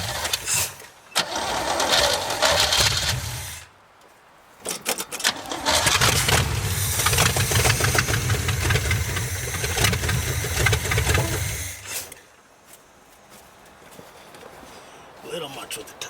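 A 1973 square body truck engine, parked for over 20 years, cranks and runs in rough bursts, a loud close rumble that stops and restarts, with people talking in the gaps.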